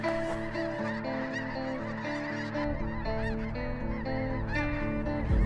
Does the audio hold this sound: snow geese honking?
yes